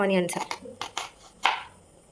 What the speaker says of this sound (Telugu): ఇప్పుడు మనం ఉల్లిగడ్డ కట్ చేసుకుందాం